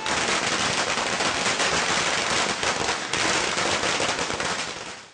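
Dense, continuous crackling of firecrackers set off by lawyers on a court campus, bursting in rapid overlapping pops, loud and sustained for several seconds before tapering slightly at the end.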